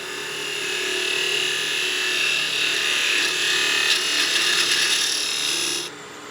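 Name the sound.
wood turning pass with skew chisel on lathe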